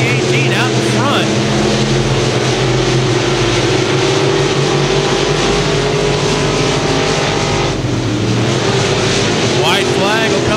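Race cars on the Thunder Hill Speedway oval battle through the final lap of a heat race, engines roaring loudly and continuously as cars pass close by, with an announcer talking over the noise.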